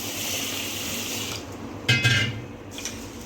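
Urad dal is rinsed in a bowl of water at a kitchen sink: running and sloshing water, then a brief close splash and swirl, with light clinks of the bowl.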